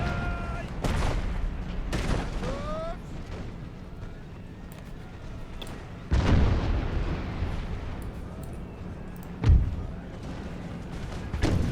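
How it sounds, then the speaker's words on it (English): Musket and artillery volleys fire in a Total War video game battle with Russian forces, several heavy booming cracks spaced seconds apart over rumbling battle noise, with a voice talking between them. "Fire. 148 of the bastards. For Catherine, shoot them down"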